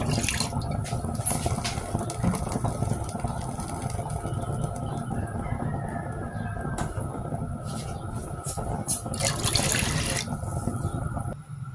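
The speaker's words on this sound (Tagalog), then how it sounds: "Maglagay tayo ng tubig." Water pours steadily from a tap into a pot for chicken soup stock, a continuous splashing rush for several seconds that swells slightly near the end.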